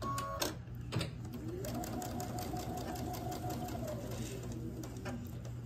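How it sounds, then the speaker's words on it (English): Sewing machine stitching quilt block pieces along a quarter-inch seam, a quiet, steady mechanical whirring with a faint rising and falling tone and a couple of soft clicks near the start. "so now we'll sew down this line right here"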